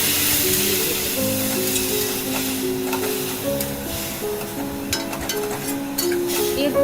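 Water goes into spices and vegetables frying for a potato and pointed gourd fish curry, giving a loud, continuous hiss and sizzle close up, with faint clinks and some background sound.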